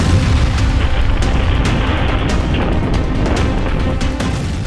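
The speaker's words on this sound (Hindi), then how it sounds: "लेबनान से लॉन्च किया गया रॉकेट एक बिल्डिंग के बाहर गिरकर फटा" A rocket launched from Lebanon explodes outside a building, leaving a dense, loud roaring rumble with crackling bursts that stays heavy throughout and slowly eases toward the end, with no voices.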